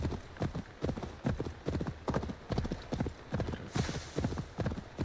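Hooves of Roach, the player's horse in Assassin's Creed Valhalla: Wrath of the Druids, clip-clop in a steady, fast trotting rhythm throughout, close and prominent, with game ambience underneath and no talking.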